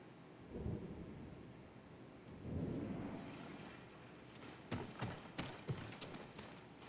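Thunderstorm with rain in the video game Ghost of Tsushima: low rumbling thunder rolls build in two swells, then a run of sharper, louder cracks and crashes over a steady rain hiss, with no talk.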